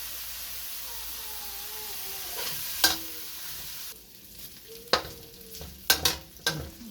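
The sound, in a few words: bacon frying in a pan for carbonara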